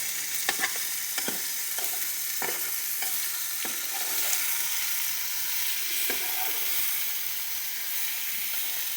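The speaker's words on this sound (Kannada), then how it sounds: "ಇದು ಚೆನ್ನಾಗಿ ಸ್ವಲ್ಪ ರೋಸ್ಟ್ ಆಗಬೇಕು ಎಣ್ಣೆಯಲ್ಲಿ" Soybean masala roasting in oil in a pan, a steady close sizzling hiss throughout with occasional sharp stirring clicks and scrapes.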